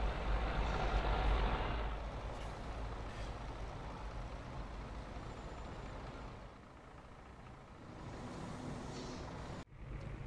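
A Scania R480 truck with a box trailer, driven in the Brazilian game Rotas Brasil, gives a steady, loud diesel engine drone with road rumble, continuous throughout and ending in a brief hiss like an air-brake release.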